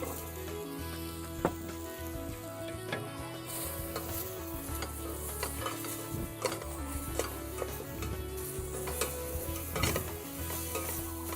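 Tomatoes sizzle and get stirred in a pan of Kiri Ala curry, a steady close frying hiss with scattered spoon clicks and scrapes, and music playing underneath.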